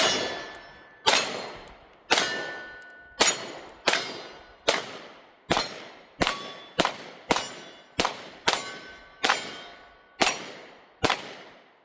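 Pistol shots fired one-handed from a Springfield Hellcat Pro Comp, about fourteen sharp, loud reports at a brisk, slightly uneven pace, each ringing off metallic targets and decaying quickly, with no talking.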